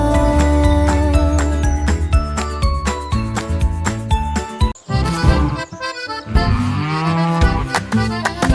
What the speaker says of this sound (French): les vaches ont commencé à meugler